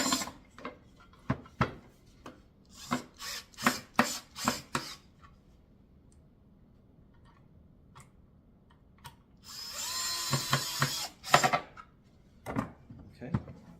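A power drill with a Phillips bit drives screws into a wooden kids' chair in short bursts with pauses, then runs for a longer stretch, near and fairly loud with a voice speaking at times.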